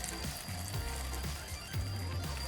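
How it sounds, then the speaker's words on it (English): Grated potato rosti pancakes fry in a hot pan with a steady crackling sizzle, joined by low thumps and scraping of a utensil moving in the pan, with no talking. "Listen, the sizzle sound makes me hungry."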